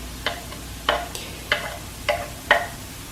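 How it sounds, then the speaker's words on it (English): Onion and garlic frying in a pan, a faint background sizzle punctuated by five evenly spaced stirring clicks or scrapes, close and quiet with no talking. "So as the onion browns, make sure it doesn't burn"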